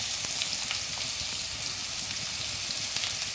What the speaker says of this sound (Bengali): বিনস, গাজর, একটু ক্যাপসিকাম, সব সবজিগুলো দিয়ে আমি একটু হালকা ভেজে নেব।